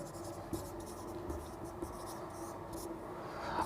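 Marker or chalk scratching on a classroom board during a history lesson, a series of short, quick strokes repeating across a few seconds, fairly faint and close with no talk over it.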